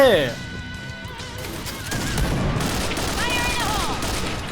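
Rapid gunfire in a shooting video game crackles in bursts and volleys, mixed with crashing impacts, while a voice talks over it.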